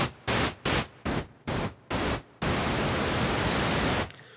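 Pink noise: five short, even rhythmic bursts of broadband hiss, then one long steady rush that cuts off abruptly near the end.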